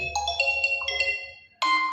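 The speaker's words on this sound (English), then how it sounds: "So which ringtone guys you will have to choose, like this one, fantastic blue" A Vivo Y21A phone plays its Fantastic Blue ringtone, a bright melodic electronic tune of stepping notes with a brief pause before a louder chord, clear and alone.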